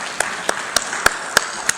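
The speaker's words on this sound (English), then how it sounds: "Can you have a big round of applause," A handful of distinct, evenly spaced claps, about six in under two seconds, sounding fairly close, as an audience welcomes a judge at a hotel event.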